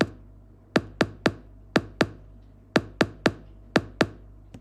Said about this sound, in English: Right now I have the kick drum that sounds like this.